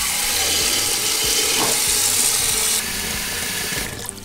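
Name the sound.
water from a tap filling a large soup pot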